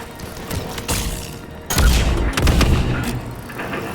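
Gunfire from the video game Mass Effect 3: a quick sequence of shots that begins sparse, then erupts into a loud, dense burst of close firing with heavy booms before tapering off.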